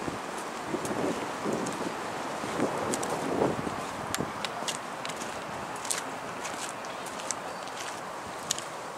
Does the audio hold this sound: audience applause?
no